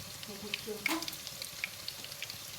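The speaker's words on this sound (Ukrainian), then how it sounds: "перше хай цибулька смажиться" Onion sizzling in a little oil in a pan alongside potatoes, a soft steady fry crackle with a few sharper pops, close and fairly quiet.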